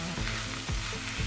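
Chicken stuffing sizzling with butter in a pan, a loud continuous fry with brief low scraping pulses from stirring, no voices.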